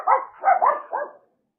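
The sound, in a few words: dogs barking at a passing neighbor's dog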